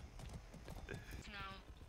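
Horse hooves gallop in Far Cry 6 in a quick, steady clip-clop rhythm with mechanical creaks, fairly close and moderately loud, and a brief game voice rises near the end.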